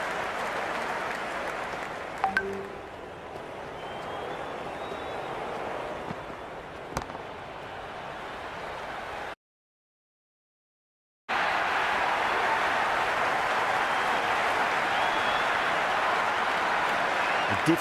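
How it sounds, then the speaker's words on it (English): A cricket crowd at a Big Bash T20 match between the Sydney Sixers and Adelaide Strikers applauds and roars in a steady, broad wash of cheering. The noise carries on without a break apart from a short silent gap partway through. "The crowd is electric right now."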